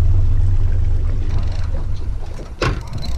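A fishing boat motoring back up for another drift while fishing for snapper, a loud continuous low engine drone with water rush, and a sharp knock or thump near the end.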